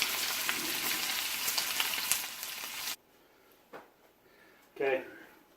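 Homemade cured bacon sizzles and crackles loudly in a pan, a dense steady fry that cuts off abruptly, followed by a few faint clinks and handling sounds.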